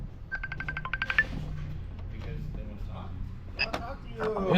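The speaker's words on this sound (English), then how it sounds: "Whose phone is ringing?" A mobile phone rings in a workshop where a car harness is being swapped, bursts of electronic ringtone tones up close with low machinery hum underneath.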